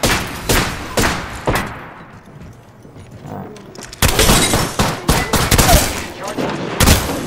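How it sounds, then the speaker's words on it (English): Enemy gunfire in Apex Legends, with sharp separate shots early, then a quieter stretch with a voice, then a louder cluster of rapid cracks and impacts. "The enemies are shooting at me."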